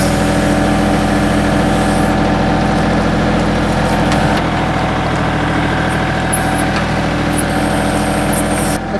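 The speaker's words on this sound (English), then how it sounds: "Tractor is sliding a little." A tractor engine running steadily and loud close by during drainage work on a sloped property, a constant low rumbling drone with no talk.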